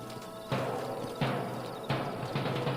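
Horses' hooves in Red Dead Redemption as riders dismount: a few soft, evenly spaced thuds about every two-thirds of a second over a quiet background.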